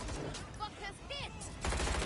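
Rapid bursts of gunfire in the video game Watch Dogs, several sharp shots spread through a short stretch of combat, with voices shouting over the shooting and a denser volley near the end.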